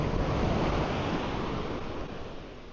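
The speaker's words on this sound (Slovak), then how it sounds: "Tak sú trochu vlny, pozrite." Sea waves break on a beach on the Italian island of Ischia, a close, continuous rushing wash of surf that swells and slowly eases, with a faint wind rumble underneath.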